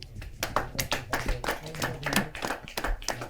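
An audience at a Hindi kavi sammelan poetry gathering claps in a dense, lively burst of many hands, close and fairly loud, continuing without a break.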